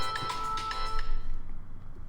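A mobile phone ringtone rings for about a second, a bright repeating electronic melody that cuts off, followed by low room hum, with no speech over it.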